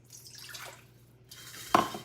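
A cup of water poured into a stand mixer bowl as wet ingredients for cake batter; a soft trickle ends in a brief, sharper splash, with no talking.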